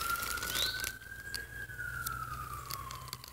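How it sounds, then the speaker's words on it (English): A police siren wails in the distance, a single long rising and falling tone over a low background hum. "It's not an ambulance, it's a cop car."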